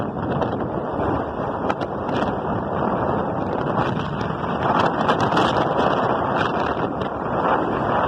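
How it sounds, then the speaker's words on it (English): Steady, loud wind roar buffeting the microphone throughout on a very windy day, with broadband rushing noise like air blasting past a car driving down the road. "Oh yeah, very windy, but I wanted to show that to everyone."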